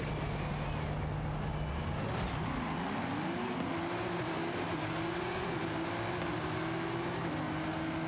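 An American muscle car's engine revs in a Forza Horizon 5 race, a steady, fairly faint drone whose pitch climbs and holds through the gears under a continuous roar, with no talk.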